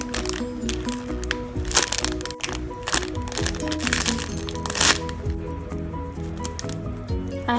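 Squishy toy packaging handled up close, sharp crinkling and crackling bursts over several seconds, with a tonal music bed running underneath.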